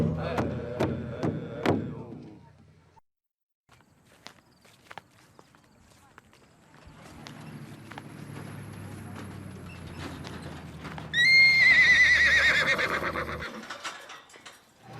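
A horse clip-clops along at a walk, with hooves thudding in irregular steps. A loud, drawn-out neigh rises near the end, and a brief voice is heard early on.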